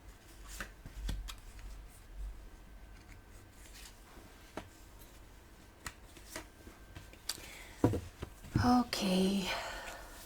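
Tarot cards being shuffled, with soft papery riffles and taps scattered through a quiet room and a louder burst of shuffling near the end.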